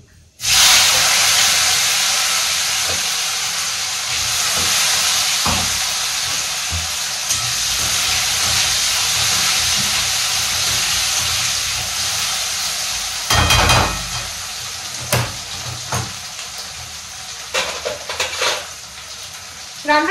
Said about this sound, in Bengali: এখানে রাঁধুনি আর কালো জিরা ফোড়ন দিয়ে দিচ্ছি, আর তারপরে দিয়ে দিচ্ছি আলু